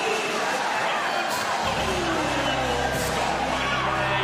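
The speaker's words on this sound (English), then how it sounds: "Jubilation in the crowd." Crowd cheering and jubilant noise fills a Paralympic goalball arena in Paris after France scores in a women's quarterfinal against China, a steady roar of voices with commentary-like talk running underneath.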